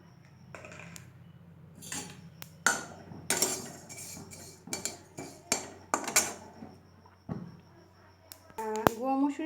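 Ground lentils and spices tipped into a pan for a village-style raw mango pickle, with a string of scraping and clinking spoon-on-pan knocks, fairly close, between quieter stretches of low room hum.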